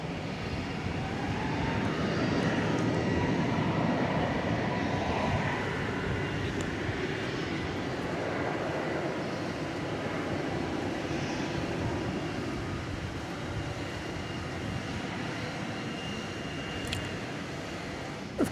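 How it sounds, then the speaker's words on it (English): An American Airlines Airbus A321neo jet departs DFW Airport at night for Portland, Oregon, its broad engine roar filling the air, loudest early on and slowly easing as it pulls away. "American Flight 2325 is going to Portland, Oregon. It's an Airbus A321 of the Neo variety."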